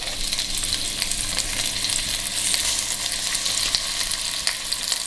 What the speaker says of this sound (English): So what I'm doing with this is just about browning it.